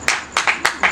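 A handful of scattered handclaps from a comedy show audience, about four or five sharp, close claps in quick, uneven succession over a single second.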